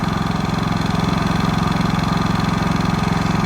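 A Predator 5000 watt dual-fuel generator from Harbor Freight running steadily: a loud, close, even engine drone with a fast regular throb that holds constant throughout, with no talking.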